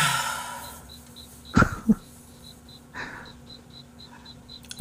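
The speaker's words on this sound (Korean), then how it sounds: "근데 어느 집이 이렇게 귀뚜라미가 처울어요?" Crickets chirp near a home garden as a faint, regular train of short, high, evenly spaced pulses, with a few soft breaths and bumps nearby.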